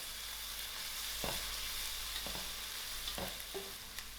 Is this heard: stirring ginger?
yes